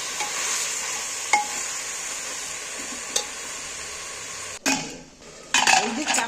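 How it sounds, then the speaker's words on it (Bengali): Chicken fries in a pan while being stirred and pressed, a steady bright sizzle punctuated by a few utensil clacks and scrapes, followed by bursts of louder stirring near the end. "এইভাবে নেড়ে নেড়ে কিছুক্ষণ ছাড়া ছাড়া নেড়ে নেড়ে মাংসটা কষিয়ে নিতে হবে"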